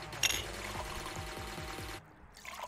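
Beer pours from a tap in the Brewpub Simulator video game, a steady foamy liquid rush with a rising fill and a faint clink near the start before it cuts off abruptly.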